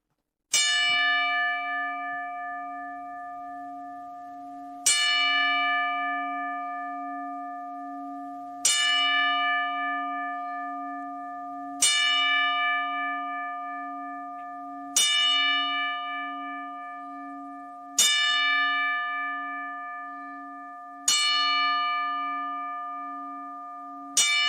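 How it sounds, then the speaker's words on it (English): A large bell tolls ten times at a slow, steady pace, each ring struck clearly and left to decay with a long resonant hum. It sounds loud and close, with no talk over it. "we're going to take a second and do our usual 10-bell salute to Marcus Crane."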